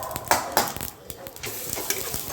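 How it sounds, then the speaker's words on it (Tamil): Mustard seeds and lentils frying in hot oil, a close crackling sizzle with sharp spitting pops and scattered ticks over a steady hiss. "இப்போ எண்ணெய் நல்லா காஞ்சிருச்சு இதில் தேவையான அளவுக்கு கடுகு சேர்த்திக்கலாம்"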